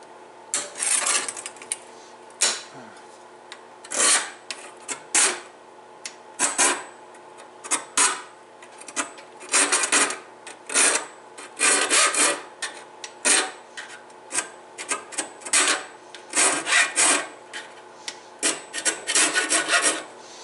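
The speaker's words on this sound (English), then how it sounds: "as soon as I'm done with the file, this blade is sharp" Hand file rasping across the teeth of a Woodmizer LT15 sawmill band blade, a steady run of close, loud scraping strokes in irregular bursts with brief pauses between them.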